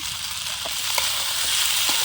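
Potatoes sizzle in hot oil with turmeric, chili powder, salt and roasted spice powder, a dense continuous frying hiss close by, with a few soft scraping stirs in the pan.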